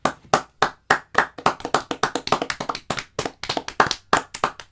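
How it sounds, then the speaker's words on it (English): A small round of hand clapping, sharp separate claps in a quick, uneven rhythm, close and fairly loud with brief silent gaps between them, and no talking. "In fact, round of applause."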